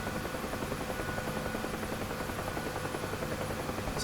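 A UH-1H helicopter in the DCS flight simulator flies with a steady, loud rotor and turbine drone that continues without a break. No voices are heard.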